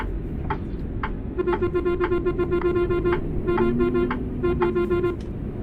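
A dashboard hazard-light indicator clicks in a regular, evenly spaced tick-tock inside a Mercedes bus in Euro Truck Simulator 2, repeating steadily over a constant low engine hum with no talking.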